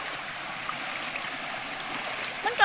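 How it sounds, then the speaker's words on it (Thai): Water from a small natural waterfall runs down a narrow channel between rocks after overnight rain, a steady close hiss and babble that continues without a break. "อันนี้เป็นน้ำตกธรรมชาติเลยเนาะ"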